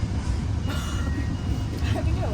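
A train rumbles along the rails as heard from inside the car, with steady low roar and faint clinks, while people talk close by over the continuous noise.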